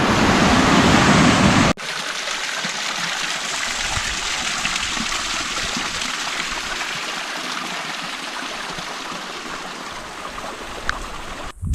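Rushing stream water at a river crossing on the Timberline Trail around Mt Hood, a steady broadband roar, louder and brighter for the first two seconds, then a continuous close churning flow with no voices.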